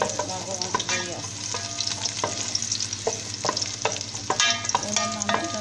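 Garlic sautéing in a little oil, a continuous light sizzle broken by repeated sharp clinks and scrapes of stirring, close and fairly quiet.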